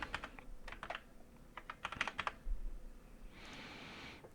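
Short bursts of typing on a computer keyboard, quick clustered keystrokes with gaps between, close and fairly quiet, ending in a soft rushing noise.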